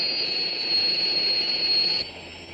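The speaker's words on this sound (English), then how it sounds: "There must be an aircraft in the vicinity." An aircraft engine whines steadily in the vicinity, a sustained high-pitched tone over a broad roar that drops abruptly near the end, with no talking.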